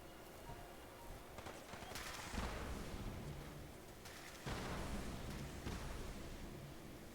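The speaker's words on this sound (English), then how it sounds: "someone's got a machine gun." Dense bursts of machine-gun fire and gunshots from a firefight in Fallout 4: Far Harbor, a continuous crackling fusillade that swells louder partway through, with no talking.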